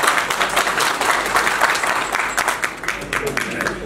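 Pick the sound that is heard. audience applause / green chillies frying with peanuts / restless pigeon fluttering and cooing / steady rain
audience applause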